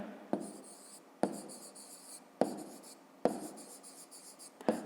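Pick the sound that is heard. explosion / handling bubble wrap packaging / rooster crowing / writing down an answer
writing down an answer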